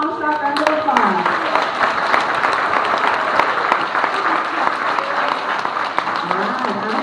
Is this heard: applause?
yes